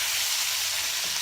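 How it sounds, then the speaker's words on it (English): Chicken tagine with saffron and turmeric sizzling and frying in a pan while being stirred, a close, loud, steady crackling hiss. "So give this all a little stir"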